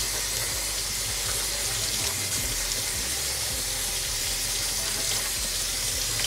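Tap water runs steadily over a Melin Hydro cap as it is rinsed under a faucet, giving a constant close splashing hiss throughout with no voices.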